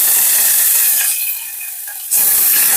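Loud hissing sizzle of mustard seeds, a pinch of asafoetida and curry leaves frying in hot oil, briefly easing off then surging again sharply.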